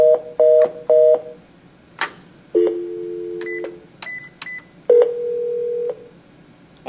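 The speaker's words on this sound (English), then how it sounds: "The easier way to test the calling is to dial our 600 number." A conference phone plays key beeps while a number is dialed: short paired tones, a sustained dial tone and further tone bursts, clear and close with a quiet background.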